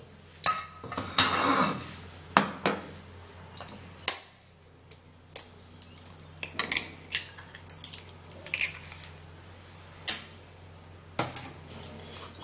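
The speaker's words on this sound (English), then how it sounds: "the next thing you're going to do is to break in the egg" An egg is cracked into a dish, followed by a series of sharp clinks and taps of shell and utensil against the bowl, some louder and some fainter, with quiet gaps between them.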